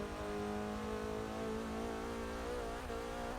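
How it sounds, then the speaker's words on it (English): A Porsche 944 Turbo engine accelerates along a straight in the Forza Motorsport 6 racing game, with a steady, mellow drone that rises in pitch. It is loud and continuous, with no talk over it. "I love the sound of this car."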